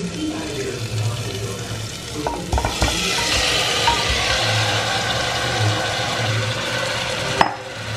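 Marinated chicken and fried potatoes sizzle in a masala over medium flame and are stirred continuously. The spatula scrapes and clatters close by, with no talk.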